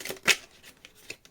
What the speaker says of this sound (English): Okay, last shuffle for Taurus.